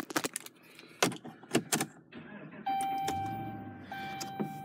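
A 2011 RAM 1500 pickup starting up, with keys clicking and a few sharp interior clunks, then a steady electronic chime and a low engine hum settling in as a voice speaks quietly in the cab.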